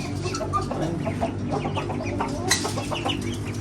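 Chukar partridges and ducks are let out of their enclosure to eat grain, and a busy mix of clucks and chirps runs close by with some wing flapping and no talk.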